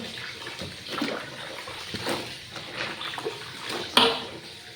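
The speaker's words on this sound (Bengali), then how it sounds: "তারপরে হলো থালা বাসনগুলো মাজবো" Dishes being scrubbed under running tap water at a home sink, a steady splashing flow with clinks and clatter, and one sharper knock near the end.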